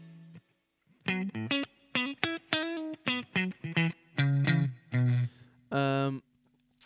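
Electric guitar run through a Boss GT-100 multi-effects unit with a plate reverb setting, a series of short picked notes and chords played close and clear, each ringing briefly before stopping, with a longer sustained chord near the end.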